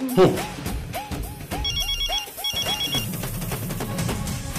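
A telephone rings repeatedly over a speakerphone call, the ringing tones pulsing in short bursts as people talk and move nearby.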